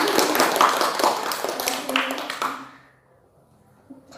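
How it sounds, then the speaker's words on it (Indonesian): A small group claps hands together during a group guidance session, a dense patter of claps for about two and a half seconds that fades into near silence, with voices mixed in. "tepuk tangan buat kita semua ya"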